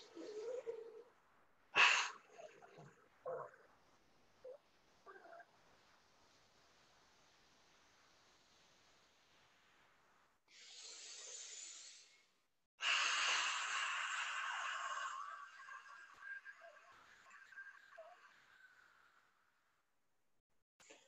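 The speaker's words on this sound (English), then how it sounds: "Two more breaths." Deep breathing in pranayama meditation: slow, audible inhales and long hissing exhales, close and soft, separated by quiet pauses, with a few faint sniffs early on.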